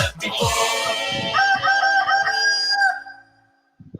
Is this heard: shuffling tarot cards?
no